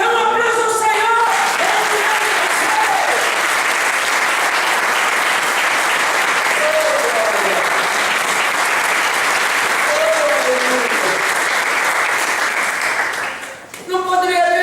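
A church congregation breaks into sustained, loud applause for about thirteen seconds, steady and dense before tapering off, with cheering voices mixed into the clapping.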